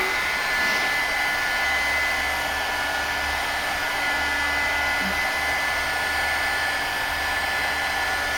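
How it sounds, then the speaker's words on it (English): Heat gun blowing hot air to melt and spread wax over a painting, a continuous close, loud fan roar with a steady whine and no breaks. "But the heat gun is going to move the wax around."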